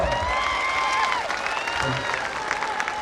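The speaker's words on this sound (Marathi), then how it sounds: "जोरदार टाळी वाजवून स्वागत करावे छोरीनो" Crowd clapping to welcome guests at a Banjara community roadside rally demanding reservation, steady applause mixed with voices and a speaker talking over it.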